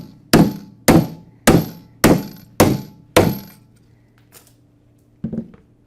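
A power tool drives Flexco BR rivets into a solid plate with a steel guide block, giving six sharp, loud metallic impacts at an even pace, then a lone fainter knock after a pause.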